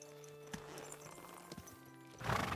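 Video game horse's hooves clip-clopping, a few sparse, faint knocks against a quiet tonal music bed, ending in a brief louder burst of noise.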